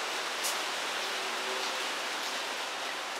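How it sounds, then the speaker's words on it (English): Steady rain patters on a metal roof awning outside a kitchen, a dense continuous hiss of drops with no pauses and no voices. "it's going to be very, very loud thanks to the pitter-patter of the rain on top of this awning or this metal roof."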